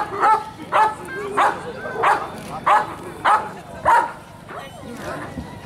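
A dog barks about eight times in a steady, evenly spaced rhythm during a protection-training demonstration of an attack on its owner, loud and close, with a faint background hum.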